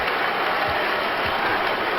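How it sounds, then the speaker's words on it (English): A basketball arena crowd at a Lakers versus Jazz game gives Kobe Bryant a standing ovation, a steady, dense wash of applause and cheering throughout. "now Kobe Bryant receiving a standing ovation, and Phil is up, clapping"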